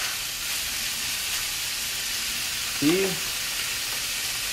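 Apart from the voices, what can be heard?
beef sizzling in a pot with a little oil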